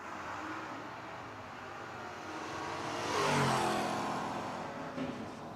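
A drag race between a 1984 Ford LTD wagon and a 1970 El Camino, engine noise heard from a distance that swells as the cars pass by, then fades.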